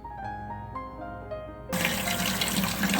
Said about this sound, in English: As I'm filling the sink with just tepid water, it's not even really cold.